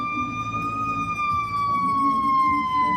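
A fire truck siren wails close by in a slow, steady falling tone over low street and engine rumble, during a procession of fire trucks and police cars in Sunset Park, Brooklyn.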